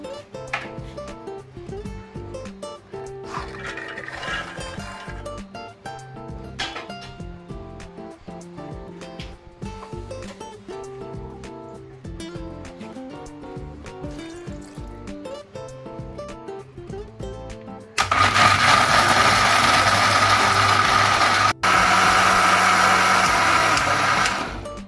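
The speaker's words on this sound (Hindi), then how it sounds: "और जो बचा हुआ चना है उसे भी हम पीस लेंगे, थोड़े से पानी ऐड कर," Mixer grinder grinding black chickpeas with a little water, heard as a loud whirring motor burst starting near the end after a stretch of quieter kitchen sounds.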